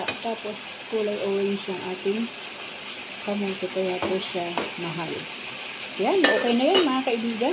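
Adobo meat with orange sweet potato sautéing in its own rendered fat in a pan, a steady sizzle with occasional stirring and utensil clinks running under continuous talk.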